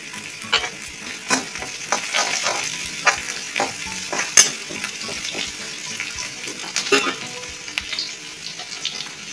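Garlic paste and finely ground chili sizzle and spatter in a hot pan, with steady frying crackle broken by sharp pops and stirring scrapes close by.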